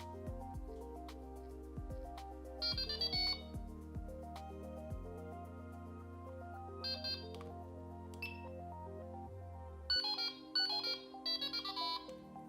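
Quiet electronic beeps and tones sound from a Delkim Rx-D bite alarm receiver, short bright bursts in small clusters, with no talking.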